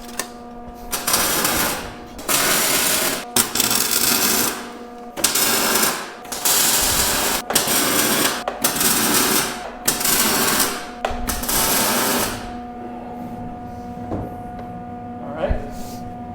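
MIG welder tacking fabricated steel plates and tabs for truck cab mounts in a shop, a series of loud crackling bursts of a few seconds each with short gaps, then quieter intermittent clanks and shop noise.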